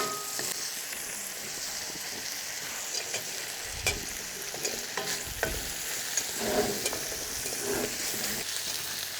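Shiitake mushrooms stir-fried in a pot with garlic, bacon and dried shrimp crackle with a steady sizzle, broken by scraping and knocking of a utensil against the pot, close and without talk.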